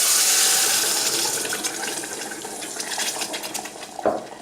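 Water left from boiling shrimp is poured back into a pot of rice, a loud rushing gush at the start that tapers into a softer trickle and splashing.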